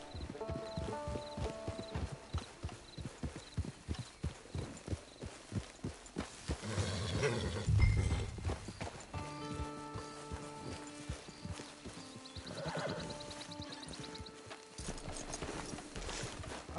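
Horse hooves clip-clop in the video game Red Dead Online, a regular walking rhythm of close hoofbeats layered with game music and ambient sounds, with a brief heavier rumble midway.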